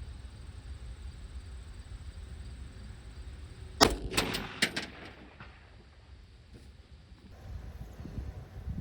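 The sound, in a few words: FAL rifle shot at 400 yards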